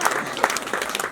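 An audience at an education talk breaks into brief, loud applause, a quick burst of scattered claps lasting about a second.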